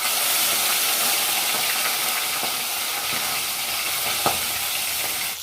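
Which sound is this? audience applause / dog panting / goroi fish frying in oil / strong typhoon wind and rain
goroi fish frying in oil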